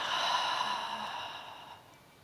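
A slow, breathy exhale during a Pilates breathing exercise, a soft steady airy rush lasting about two seconds and fading out gently at the end, close to the microphone with no talking.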